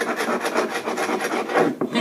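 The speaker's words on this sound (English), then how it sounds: "So I like to use a carbide scraper and just real lightly" A carbide scraper rasps lightly over a painted oak floor in quick repeated strokes, close and steady with no talk.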